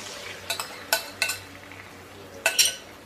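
Beaten eggs cook beside chicken in a pan over a lowered flame for chilli chicken fried rice. A faint background sizzle sits under a handful of sharp spatula scrapes and clinks.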